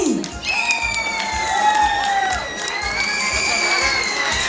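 Children's carnival crowd cheering and shouting with scattered applause, a dense, steady roar of young voices and whoops that stays loud throughout, with bright high-pitched calls rising above the crowd.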